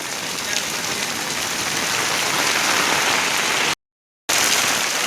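Monsoon rain pours steadily onto surfaces in Gujarat, a dense, loud, unbroken hiss of drops with a brief cut to silence near the end.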